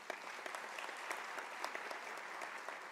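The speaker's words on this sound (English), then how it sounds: "I think the colleagues deserve a round of applause." A crowd at a university graduation ceremony claps steadily for a few seconds, a dense, even patter of many hands heard from a moderate distance.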